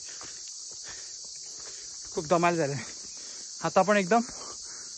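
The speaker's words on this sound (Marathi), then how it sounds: "आणि खूप रातकिड्यांचे आवाज येत आहेत." Continuous high-pitched cricket chirring fills the background throughout on a trek near Ghangad fort in Mulshi, with a person speaking briefly twice over it.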